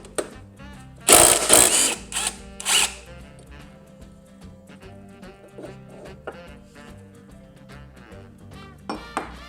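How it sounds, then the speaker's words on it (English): Power tool whirring and ratcheting in short bursts while a blade holder adapter is removed from a Honda HRN216 lawnmower, with metallic clinks and handling noises between bursts. "Next step, we're going to go ahead and remove the blade holder adapter."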